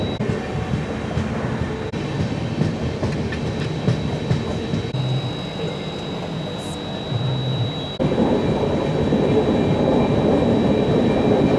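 Hamsafar Express (20924) running through Kerala between Shoranur and Thrissur, a steady close rumble of the rolling train that grows louder toward the end, heard continuously with no talking.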